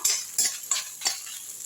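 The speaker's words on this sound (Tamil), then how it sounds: "காஞ்ச மிளகாவையும் உப்பையும் சேர்த்து போடுங்க. அப்போ நெடி அடிக்காது. நல்லா வறுத்துருங்க ரெண்டுத்தையும் சேர்த்து." Dry red chillies and salt roasting over a low flame in a pan, stirred with a spoon that gives four or five scraping rattles amid light crackling, close and without talk.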